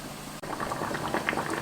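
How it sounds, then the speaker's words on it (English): Canning jar lids boil in a pot, giving a steady close bubbling with rapid overlapping pops and gurgles, briefly cut off by a tiny gap before resuming. "the bubbling you can hear is I am boiling my lids in a pot behind this"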